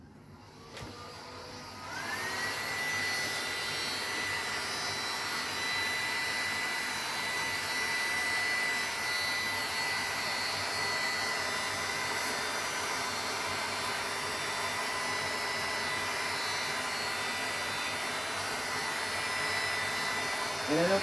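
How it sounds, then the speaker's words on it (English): A heat gun blows steadily for about twenty seconds, shrinking a thin-gauge plastic gift bag; the broadband hot-air roar starts after a brief quiet moment, stays loud and even throughout, and runs alone without talk. "So let me grab my gun and my heat gun."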